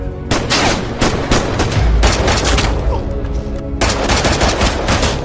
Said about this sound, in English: He weakly raises his gun at Nick, but before he can shoot, Nick fires again